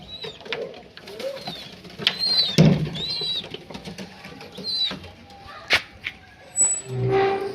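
Pigeons inside an indoor pigeon room flap their wings in sudden bursts, mixed with soft cooing and scattered bumps and rustles nearby. No one speaks.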